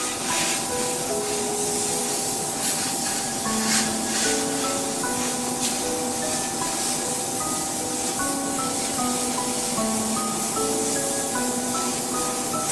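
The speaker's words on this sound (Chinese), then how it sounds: "全脸喷雾5至8分钟。" A facial oxygen water spray pen from an Oxygen Jet Peel hydra facial machine mists toner onto the face with a steady, close hiss, backed by soft electronic tones stepping up and down.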